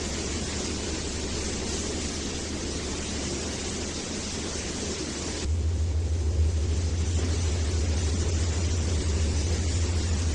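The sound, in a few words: truck sounds in Trainz 2019 video game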